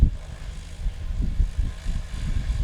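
A high-wing Cessna training plane at a STOL competition in St. Joseph, Missouri, its propeller engine thrumming in a low, pulsing rumble that rises and falls at close range.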